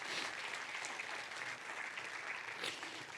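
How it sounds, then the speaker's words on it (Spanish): Congregation applauding during a church sermon, a steady dense wash of many hands clapping at moderate distance, continuous throughout. "Dele un fuerte aplauso a Dios por eso"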